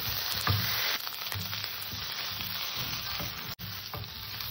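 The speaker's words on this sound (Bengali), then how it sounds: "মশলাটা দিয়ে আমি ভালো করে তরকারিটা কষে নেব, যাতে আদা জিরেটা কাঁচা গন্ধটা যাতে না থাকে, সেইভাবে সুন্দর করে তরকারিটা কষে নেব।" Curry with ginger-cumin spice paste, for a thin catfish curry with green banana and potato, fries in a pan with a continuous dense sizzle, broken by soft stirring scrapes and one brief dropout near the end.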